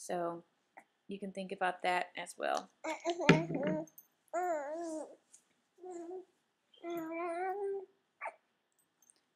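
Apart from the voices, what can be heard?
baby babbling in the background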